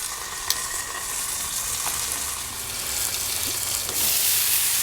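Mangalitsa pork sage sliders sizzle steadily on a Blackstone griddle, a constant close frying hiss with a few faint clinks and a brief louder burst near the end.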